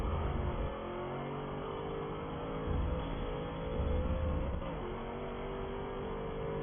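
Racing video game car engine dropping a gear under braking, a steady droning whine that dips and rises in pitch around the shift, moderately loud with no talk.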